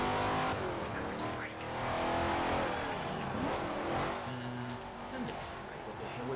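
A B-class race car in a racing video game accelerates uphill, its engine droning and rising with a brief tire squeal, while a voice talks over it.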